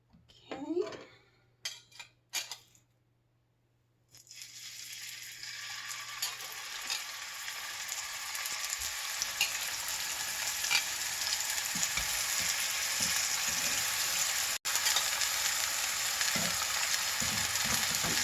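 Homemade chicken sausage patties made from fresh-ground, home-grown chicken fry in a small skillet, and after a few opening clatters a steady sizzle builds and carries on, with brief speech at the start.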